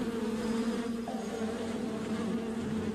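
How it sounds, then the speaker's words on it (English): A swarm of stinging bees buzzes steadily throughout, a dense, continuous drone with no pauses, moderately loud and heard alone. "It involved hiding a colony of stinging bees in soldier-like dummies."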